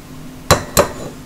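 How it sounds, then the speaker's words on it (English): Two sharp cracks about a quarter second apart, a single egg struck firmly against a bowl rim while making turkey meatloaf, crisp and close with a quiet room behind. "So you're gonna crack one egg and you're just gonna toss it in there."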